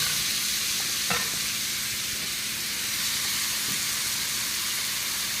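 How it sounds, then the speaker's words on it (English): Onions sizzle steadily in hot oil in a pan, a dense, continuous crackling hiss that stays loud and even throughout, with a brief clatter of stirring near the start and no voices. "once the oil gets hot enough, the onions start sizzling"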